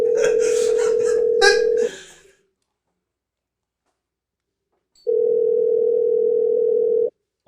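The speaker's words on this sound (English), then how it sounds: "I like how you cut off that call before I could tell William what idiot you were" A steady telephone dial tone sounds loudly after a call is cut off, with faint voices over the first part, then a few seconds of silence before the continuous tone returns alone.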